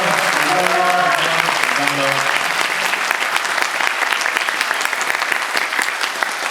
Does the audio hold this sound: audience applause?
yes